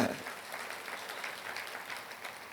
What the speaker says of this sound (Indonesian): Tepuk tangan dulu dong saudara